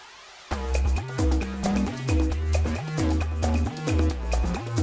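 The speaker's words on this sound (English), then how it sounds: "bouncy bass line that sounds like this" A bouncy synth bass line with hopping notes and pitch slides, steady and upbeat, over light backing after a short quiet lead-in.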